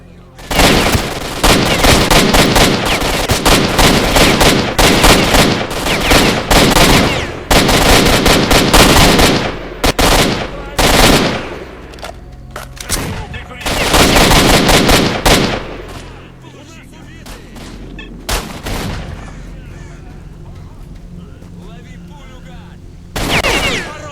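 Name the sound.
gunfire in video game S.T.A.L.K.E.R. Shadow of Chernobyl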